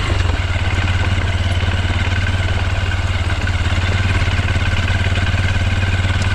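Motorcycle engine running steadily and loud at close range, a low continuous rumble with mechanical clatter that holds even throughout, no talking.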